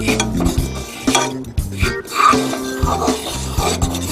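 A spoon stirs sugar and cocoa powder in a saucepan for fudge, with repeated close scraping and clinking strokes against the metal in a steady rhythm and no talk.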